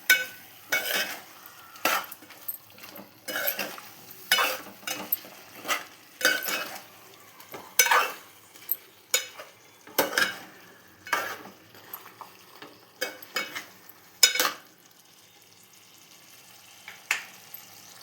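A spoon stirs chicken gravy curry with salt in a pan, giving repeated scraping and clinking strokes in an uneven rhythm over a soft sizzle, close and fairly quiet with no talking.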